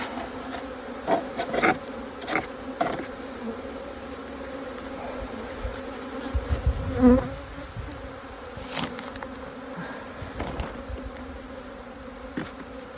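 Honeybees buzz steadily and densely up close at the hive entrance, a continuous droning hum with individual bees passing nearby, and occasional soft knocks.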